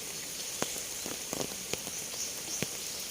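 Morning rain falling at a temple, a soft, continuous hiss of drops on surfaces with scattered louder individual drips close by, quiet and without voices.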